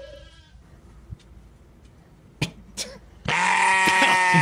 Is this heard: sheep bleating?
yes